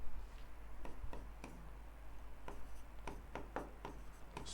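A pen writes notes on paper during a geography lesson, with a series of short, sharp scratching strokes and ticks in an irregular rhythm, close and fairly quiet over a low steady hum, and no talking.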